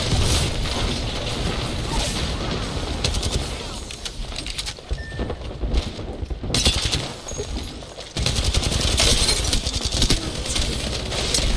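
Video game gunfire comes in dense, loud, sustained shots with crashing impacts, nearly continuous, while excited players talk over it.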